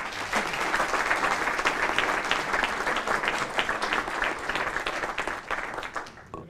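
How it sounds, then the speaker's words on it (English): Conference attendees at an auditing event clap for a speaker before a break, a full, even burst of applause lasting about six seconds and tapering off at the close. "before the break I would like to have this big applause for the speaker"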